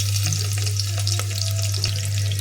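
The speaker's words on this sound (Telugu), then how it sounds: "తాలింపు" A sambar tempering of onion and green chillies sizzles in oil in a cooker, giving a close, continuous frying crackle with a few light stirring scrapes.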